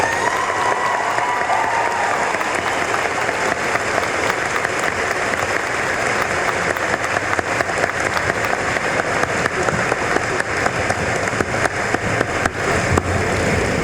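A graduation ceremony crowd for the class of 2025 breaks into sustained applause, loud and dense clapping that holds steady for the whole stretch with no speech over it.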